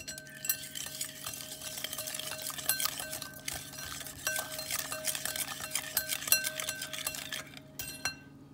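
Close clinking and scraping of a utensil stirring shrimp batter with black pepper, red pepper and garlic powder in a bowl, irregular taps against the sides with a soft sizzle in the background.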